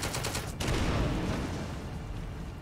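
A Sherman tank fires in The Troop strategy game: a burst of sharp cracks gives way to a heavy, booming blast that rumbles and slowly fades, close and loud, with no talking.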